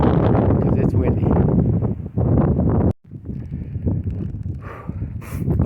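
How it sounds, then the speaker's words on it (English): Strong wind near a wind farm on a windy hiking morning buffets the microphone in loud, rough roaring gusts that drop out briefly midway, then return more weakly and unevenly. "it's just howling wind."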